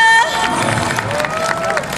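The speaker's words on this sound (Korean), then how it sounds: "정말 가슴으로 열창된 가수 우리 수현이에게 뜨거운 박수 부탁드리겠습니다" Audience applause and crowd noise for a singer at a K-pop hip hop stage show, a loud dense wash of claps and cheering mixed with a host's voice speaking over it.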